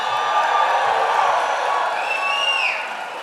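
Crowd at a political rally in a large seniors' community in Florida cheering, a loud sustained roar with whoops and whistles that gradually fades toward the end.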